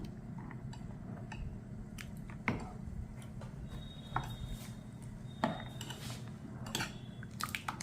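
Ingredients for Mappilai Samba rice kanji, including small onions, buttermilk, fenugreek and garlic, stirred and mixed in a bowl, with soft clinks and scrapes of a utensil against the sides over a steady low background hum.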